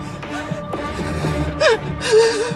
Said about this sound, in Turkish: Derin nefes al.